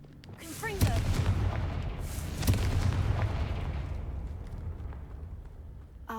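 Confringo blasting curse in Hogwarts Legacy, a burst of spell sparkle followed by a deep booming explosion around the first second, another thud soon after, then a long rumbling decay.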